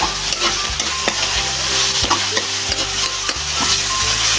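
String beans and corned beef are stirred in a frying pan, a loud continuous sizzle broken by repeated scraping strokes of the spatula in a quick, uneven rhythm.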